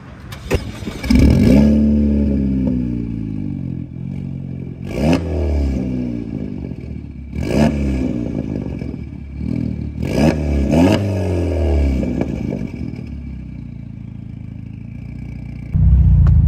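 A tuned car engine of about 350 horsepower cranks and catches, then revs hard in repeated sharp bursts, each blip rising and falling, with a loud idle rumble between and a surge at the end.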